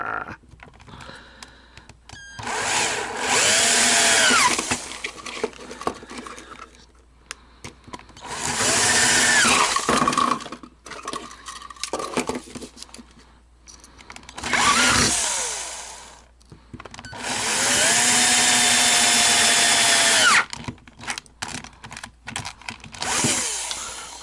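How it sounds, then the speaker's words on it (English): A roughly 20-year-old battery power drill runs in several bursts of a few seconds each, its whine rising and falling in pitch, with short quiet pauses and clicks between runs. "Forgive me, this drill is about 20 years old."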